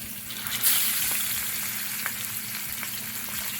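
Fish fries in a pot with garlic for black pepper fish, giving a steady, moderate hiss of hot oil with a few faint clicks and bumps from the pot.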